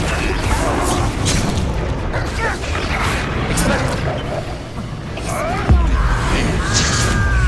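Confringo spell explosions in the video game Hogwarts Legacy boom and crash repeatedly within loud, dense game action, with a heavy thump near the end and a voice calling out over the blasts.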